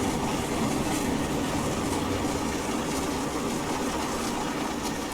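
Steam locomotive running, an LNER A3 Flying Scotsman 4-6-2 in Train Simulator Classic: a dense, steady roar of exhaust and rolling rail noise, loud and continuous throughout, with no distinct separate chuffs standing out.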